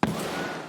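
A single sharp gunshot cracks at the start, then rings out in a short fading echo, heard in the shooter game Escape from Tarkov inside a multi-story building.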